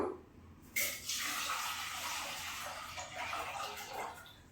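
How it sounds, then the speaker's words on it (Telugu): Water pours into a pot set on a stove for a barley grain drink, a steady close rushing splash that starts abruptly and runs on with slight swells. "పొయ్యి మీద పెట్టుకుని వాటర్ పోసుకుందామండి"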